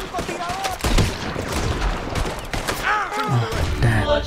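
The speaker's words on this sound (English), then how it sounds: "I'm shooting him." Gunshots in a Red Dead Redemption 2 bank robbery: several loud, close shots in quick bursts, under and between excited talking.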